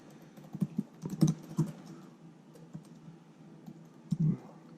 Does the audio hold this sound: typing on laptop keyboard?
yes